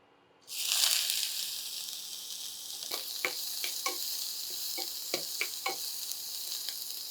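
Onions hit hot olive oil in a pan and erupt into a loud, sudden sizzle that settles into a steady, close frying hiss, dotted with sharp crackles and pops.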